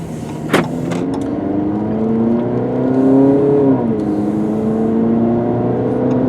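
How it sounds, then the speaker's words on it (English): A car engine drones steadily while driving and turning right onto a road, its pitch rising and bending through the turn, with a brief sharp click near the start and no talk. "I'm just trying to avoid getting hit by a car here while I'm turning right onto the road"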